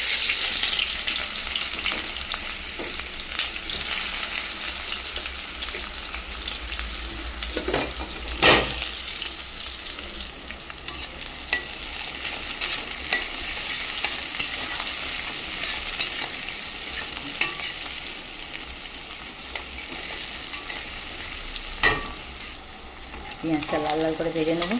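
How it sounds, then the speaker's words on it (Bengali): Chopped onions frying in hot oil with whole spices such as cardamom and black pepper, a continuous loud hiss and crackle with occasional stirring scrapes and a few metallic knocks, close throughout. "পেঁয়াজটা লাল লাল করে ভেজে নেবো।"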